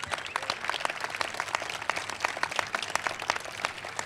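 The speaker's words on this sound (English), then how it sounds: "Let's give them a round of applause." A crowd applauds the 1,500 men and women working on the wharf project, steady moderate clapping from many hands at a public update event.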